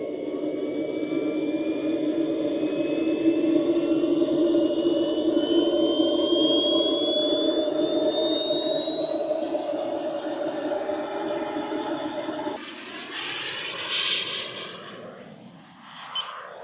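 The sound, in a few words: model jet engine flying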